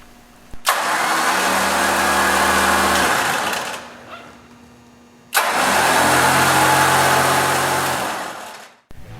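A Warn PowerPlant winch on a Jeep TJ rock crawler bumper spools out line in two loud, close, steady motor whirs of several seconds each, separated by a brief pause, with no voices.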